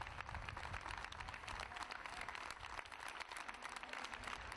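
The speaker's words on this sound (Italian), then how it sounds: "poi l'applauso liberatorio" Citizens and shopkeepers applaud together in Treviso, a faint but steady wash of clapping that runs evenly without breaks.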